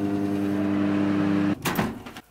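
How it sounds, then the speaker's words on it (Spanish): A microwave oven hums with a steady electric drone, then stops abruptly and is followed by a clunk like its door being handled, close by in a Tokyo home. "Aquí está el microondas."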